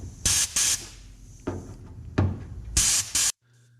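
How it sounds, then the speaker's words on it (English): An inexpensive sandblaster blasts sand onto rusty car body metal in several short, loud hissing bursts, each cutting off abruptly before the next. "This is just an inexpensive sandblaster."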